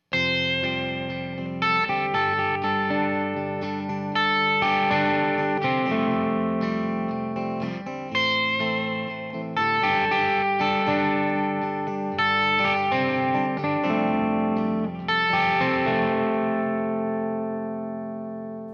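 A melodic electric guitar lead, played fingerstyle with a thumb pick, plucked bright notes and bends, sustained and fairly loud throughout with no talking.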